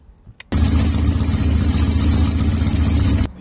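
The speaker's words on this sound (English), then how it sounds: "So the bikes from Masterton just arrived." A group of about fifty motorcycles from Masterton arrives for a charity rego-freeze ride, their engines idling together in a loud, dense rumble that starts abruptly and holds steady.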